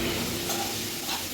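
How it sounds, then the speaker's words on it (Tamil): Curry leaves sautéed in a pan, a soft steady sizzle with faint stirring, quiet and brief, no talking. "கொஞ்சம் கருவேப்பிலை போட்டு வதக்கிடலாம்"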